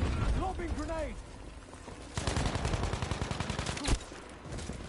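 Video game gunfire on PS4 plays as a rapid burst of automatic shots in the second half, with a single louder crack near the end, after a voice speaking at the start.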